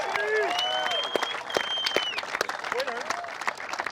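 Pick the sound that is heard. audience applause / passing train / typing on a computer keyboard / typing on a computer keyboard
audience applause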